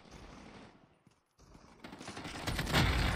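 Automatic gunfire in Call of Duty Mobile, dense bursts that drop out briefly near the middle, then return louder and heavier toward the end.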